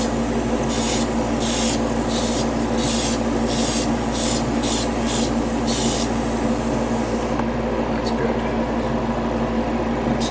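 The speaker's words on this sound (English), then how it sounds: "Make sure there's no obstruction on your airbrush and it comes out nice and smooth like what you're seeing here." Short repeated bursts of an airbrush spraying thinned paint, about eight hissing pulses over a steady background hum, then a quieter stretch; the work is a Flame Toys Transformers Megatron IDW Autobot version model kit.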